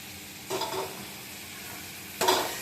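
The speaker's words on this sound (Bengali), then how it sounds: "আবার ভালোভাবে নাড়বো। যাতে মশলাগুলো সবগুলো গায়ে ভালোভাবে লাগে, ভালো করে নাড়তে হবে।" Spiced mango chicken stirred in a pan: two short bursts of scraping and sizzling at close range, separated by a steady low frying hiss.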